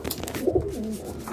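Siraji pigeons, a black bird paired with a brown one, coo close by in a short deep rolling phrase with two soft pulses.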